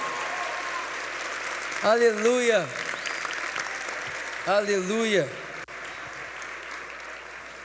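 A church congregation claps steadily throughout, a dense continuous patter, while a voice calls out twice over the top of it.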